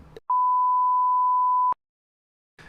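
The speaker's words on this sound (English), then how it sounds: "this is gonna be the longest bleep ever" A steady pure beep tone holds for about a second and a half, loud and isolated, between short bits of background sound, like a censor bleep.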